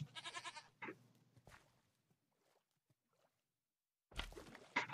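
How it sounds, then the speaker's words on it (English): A goat in a modded video game bleats in a couple of wavering, nasal cries, with a quiet gap between them and another loud bleat near the end. "Oh, it's a little goat."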